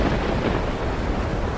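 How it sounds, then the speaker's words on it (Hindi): Thunder rumble sound effect in a Hindi audio story, a steady low, rolling roar of moderate loudness with no voices over it. "एक गरजने की आवाज़ हुई"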